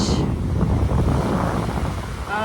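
Ocean surf washes onto a beach in San Blas, Mexico, with surfers out on the water, a continuous rushing hiss of waves mixed with heavy wind buffeting the microphone, and no voices.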